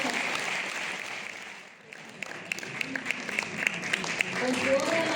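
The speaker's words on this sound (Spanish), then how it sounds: "Un aplauso." Steady applause from an audience at a theatre festival closing and awards ceremony in Jarandilla, Spain fills the hall, dipping briefly before swelling again with scattered louder claps.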